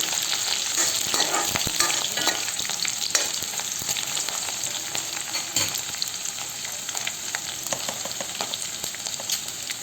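Chopped green chilies fry and sizzle in hot oil in a pan, a steady close hiss broken by frequent light scrapes of stirring, with no talking.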